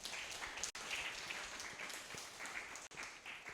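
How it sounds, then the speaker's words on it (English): Audience applause at a creativity and technology cafe event, a steady broadband wash of clapping with no voices, briefly cut off twice. "Give him a round of applause."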